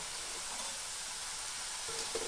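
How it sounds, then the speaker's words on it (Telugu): Small wheat flour biscuits fry in hot oil in a pan, a faint, even sizzling hiss that runs without a break through the short moment. "ఇవి చిన్న చిన్నవి కాబట్టి త్వరగా నూనెలో ఏగతాయి"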